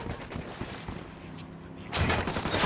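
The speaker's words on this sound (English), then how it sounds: "I'm opening fire." Gunfire in the Ghost Recon Wildlands video game comes as a rapid crackle of shots, then breaks into a louder, dense burst of firing near the end.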